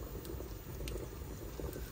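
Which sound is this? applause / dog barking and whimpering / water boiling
water boiling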